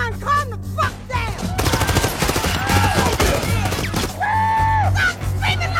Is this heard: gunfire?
yes